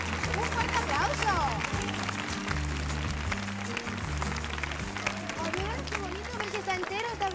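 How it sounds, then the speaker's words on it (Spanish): Applause and cheering from a studio audience at a 1982 New Year's Eve TV special sound over steady background music, with voices and crowd noise mixed in. "¡Un fuerte aplauso!"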